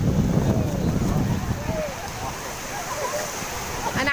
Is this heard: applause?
no